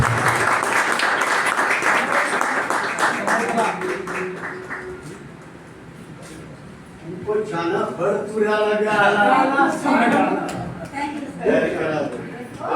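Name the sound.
loud applause for award recipients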